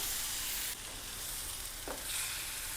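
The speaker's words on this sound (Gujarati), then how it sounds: "બધું બરાબર મિક્સ કરી લઈશું અને ટમેટું ચડી જાય ત્યાં સુધી આપણે એને સોતળવાનું છે." Spinach and tomato pulp sautéing in a pan, a steady close frying sizzle with a brief stirring scrape partway through, loud and unbroken, with no voices.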